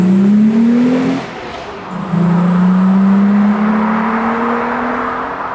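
An MG ZS180 saloon with a 2.5-litre V6 pulls away loudly up close, its engine note rising steadily through one gear, a short break for a shift, then climbing again through the next gear.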